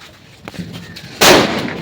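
A firecracker bursts with one loud close crack and a lingering crackle, set off outdoors amid a group of people as dirt flies, following a brief quieter stretch.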